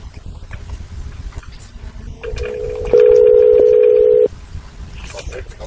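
A telephone call is transferred to a police officer's line: a wavering tone gives way to a loud, steady electronic tone lasting over a second, set between stretches of low line noise.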